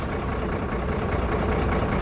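A Mercedes truck engine with a misfire idles close by, a steady low, rough rumble with an uneven, lumpy texture that continues throughout without speech.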